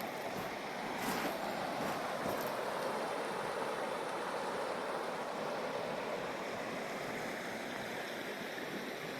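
Creek water flows at ClearCreek Greenway near the Honeybee trailhead, a steady, fairly faint broadband rush that runs unbroken throughout with no voices.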